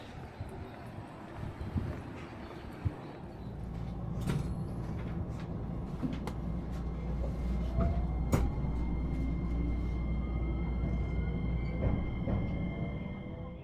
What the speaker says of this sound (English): So this is the local train heading to Gobo